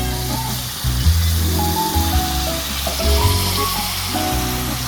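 Chopped potatoes hit a pan of browned onions with a steady, close sizzle of frying, bubbling and crackling evenly with a few soft stirring bumps and no talk.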